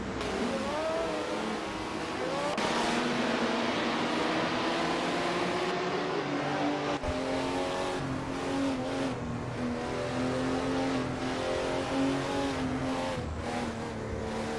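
Race cars, a Porsche and an Alfa Romeo, lap a track in a racing video game, with the engines droning and shifting pitch continuously at a moderate level and no talk over them.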